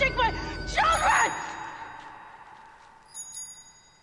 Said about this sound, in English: should you trust that bell ring?